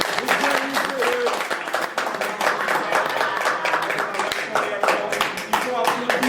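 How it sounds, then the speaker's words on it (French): A press-conference audience at the Zenith in 2021 claps in a brisk, uneven burst that continues steadily, with a few voices calling out over the crackle of hands. "on va applaudir s'il vous plaît parce que c'est important"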